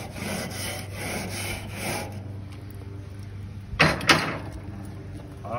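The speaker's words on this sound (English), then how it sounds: "this is time to give it a little scrape" A Weber charcoal grill grate is scraped with steady rasping strokes that repeat rhythmically and close by. Two sharper scrapes or knocks come near the end.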